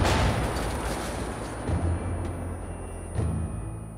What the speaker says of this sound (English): Why is there NPCs trying to shoot me while I'm doing this?